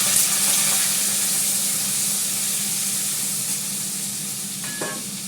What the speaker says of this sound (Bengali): এবার আলুটা দিয়ে দিচ্ছি আমাদের।